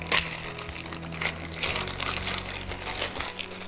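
Crinkling plastic packaging being peeled and pulled off parts of a Xiaomi Mi Smart Standing Fan 2 Lite, close and busy with rapid crackles and rustles, no speech.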